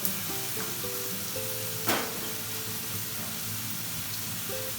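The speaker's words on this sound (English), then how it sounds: "Then we're gonna put our diced tomato in it. And let it cook." Diced tomato cooking in a pan, a soft steady sizzle with a single sharp clatter partway through, faint and unaccompanied by voices while quiet background music plays underneath.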